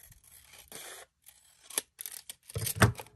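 Scissors cutting through paper on the back of a handmade junk journal envelope insert, a few short snips and rustles close by, louder toward the end, with no voices.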